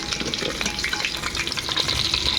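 Potatoes fry in oil with a close, busy sizzle and bursts of crackling spatter, steady throughout with no voices.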